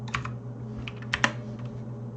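Quick, close clicks of a computer keyboard being typed on in a short irregular burst of keystrokes, with a steady low hum underneath.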